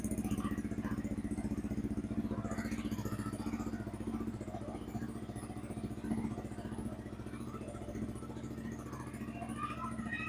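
A Yamaha R15 V3 motorcycle engine idles with a steady low rumble and mechanical clatter from its quiet exhaust, running continuously throughout at moderate volume.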